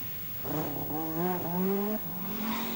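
A Shell-sponsored rally car in the 1984 Circuit of Ireland Rally, passing through the village of Glenoe: a rising engine note revs and swells as the car approaches, then drops away, moderately distant with no talk.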